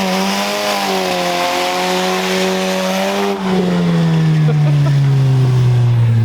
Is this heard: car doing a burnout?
yes